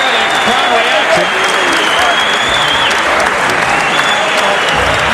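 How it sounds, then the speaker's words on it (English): A boxing crowd cheers and applauds after a fight, dense sustained clapping and roaring from a large arena audience, loud throughout, with a commentator talking over it. "You can hear the crowd reaction."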